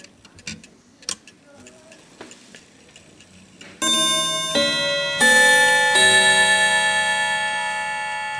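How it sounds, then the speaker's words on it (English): An antique Davison Bros London clock ticks softly and steadily up close with faint handling noise, then its chime rings out loudly in bright, sustained tones that overlap and slowly decay. "you'll be able to hear that it's ticking perfectly fine"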